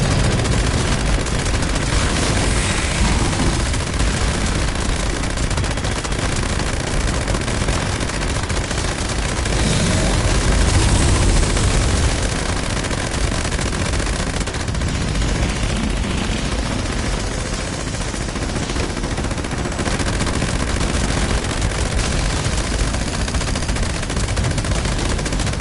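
Sustained rapid gunfire from an ice weapon in the video game Fallout 76, loud and dense with continuous bursts and booming impacts running the whole stretch without pause.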